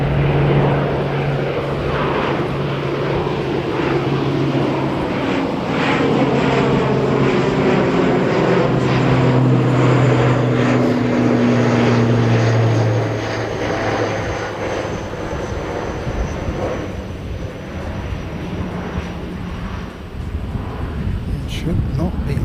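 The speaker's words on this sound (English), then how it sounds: "400 tonnes of super aircraft." A USAF C-130 propeller aircraft does a touch and go, a loud continuous engine roar with droning propeller tones that slowly shift in pitch as it passes, then eases slightly toward the end.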